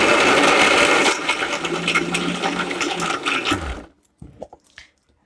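A mixer grinder whirs loudly for a few seconds grinding amti spice paste, its motor noise wavering, then stops abruptly, followed by a few light clinks.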